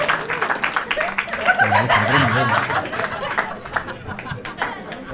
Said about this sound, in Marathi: ये मित्र प्रतीकसाठी जोरदार टाळ्या मित्रांनो.